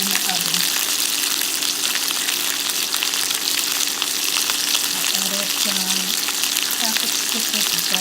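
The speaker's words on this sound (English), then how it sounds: "I place them in the skillet so I can brown them on each side and then stick them in the oven." Stuffed chicken browning in a hot skillet gives a loud, dense, continuous sizzle and crackle from close by, with faint clinks now and then.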